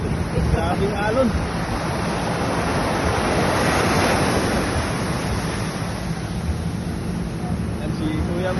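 Ocean waves roll at sea off Zambales, a broad rushing wash of surf mixed with strong wind buffeting the microphone, steady and close, with faint voices underneath.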